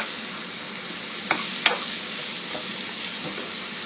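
Ginger stirred into a sizzling pan for a chicken dinner: a steady close frying hiss throughout, broken by two sharp utensil scrapes or clacks against the pan and a few softer stirring knocks.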